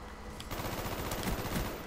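An AUG rifle fires in a gun-game round of a shooter, giving a rapid, steady stream of close gunshots that holds for the whole stretch.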